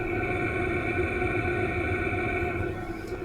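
A Vevor diesel heater runs steadily nearby with a constant droning hum and whirring fan tones, unchanging throughout and slightly easing at the end, with no voices.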